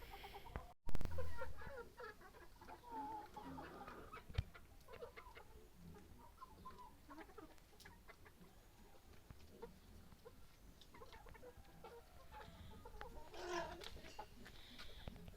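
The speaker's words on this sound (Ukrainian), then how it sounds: "Курі собі підспівують, дорослішають" Hens cluck and murmur softly in the background, with scattered short calls over a steady, quiet farmyard ambience; no talking.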